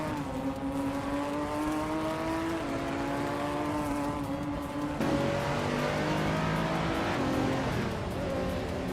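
Racing cars in a video game roar past and accelerate, engine tones climbing and stepping through gear changes, a louder wave of overlapping engines arriving midway, with no talking.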